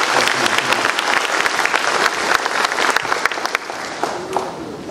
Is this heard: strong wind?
no